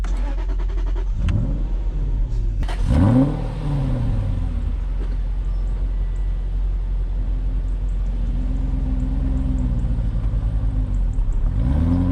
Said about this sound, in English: My cousin just wheel spinning in my Jag in reverse there.